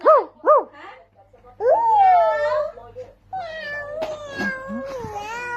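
A voice imitates a cat's meow with two short mews, then longer drawn-out meows follow, mixed with other voiced sounds.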